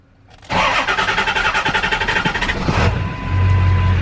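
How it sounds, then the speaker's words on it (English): A diesel one-ton pickup truck cranks over briefly with a rhythmic starter chatter, then fires and settles into a loud, steady idle on a cold start, close by with no talking. "This is a cold start. That was a cold start."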